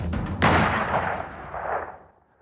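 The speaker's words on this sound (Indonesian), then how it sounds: "Dan ternyata Chun E yang terkena tembakan itu." A single loud rifle shot rings out in a drama scene, a sharp crack followed by a long rumbling echo that fades over about two seconds.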